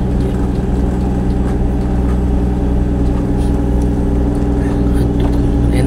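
A fiberglass fishing boat's engine runs with a loud, steady low drone and a constant humming tone, unbroken from start to finish.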